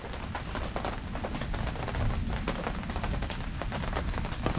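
Rain falls steadily nearby as a dense, continuous patter and hiss with no break, and no one speaks.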